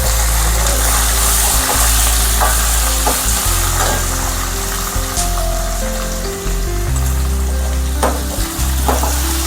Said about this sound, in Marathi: मिरच्या टाकत आहे, लसूण आहे।